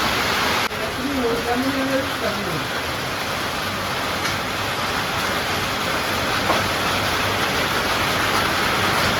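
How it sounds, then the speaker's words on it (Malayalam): Heavy rain pouring down, a dense, steady broadband roar filling the whole stretch, with a voice speaking briefly near the start. "മഴ നല്ല മഴ പെയ്യണുണ്ട്"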